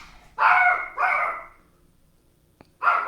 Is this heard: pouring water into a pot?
no